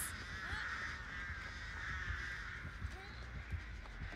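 Crows caw repeatedly in a video game, harsh calls layered over a constant game ambience and low rumbling, moderately loud with a few scattered squawks across the span.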